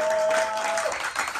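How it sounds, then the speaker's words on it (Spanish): Audience applause for a freestyle rap battle final, a brief dense burst of clapping and crowd noise with a steady tone running beneath its first half. "un fuerte aplauso para esta batalla"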